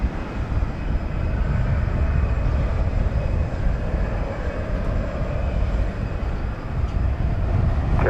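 A Cathay Pacific heavy jet taking off from runway 18 left at DFW Airport: a steady, broad, loud engine roar that holds evenly throughout with no breaks.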